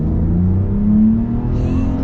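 A 2025 Ram RHO truck with full-time four-wheel drive accelerating hard, a loud low engine roar that rises steadily in pitch over about two seconds.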